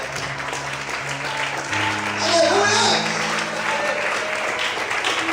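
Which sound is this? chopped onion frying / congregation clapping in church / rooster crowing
congregation clapping in church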